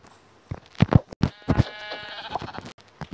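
A sheep bleats in a video game, a few short wavering calls mixed with quick thumping hits, fairly near and alone.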